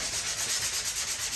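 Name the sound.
sanding drywall patch with 120 grit sandpaper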